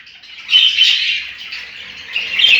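A mother budgerigar feeding her chick gives harsh, close squawks in two main bursts, with softer chattering between them.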